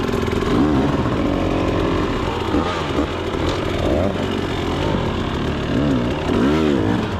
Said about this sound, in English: I'm on my 23 KTM 300XC.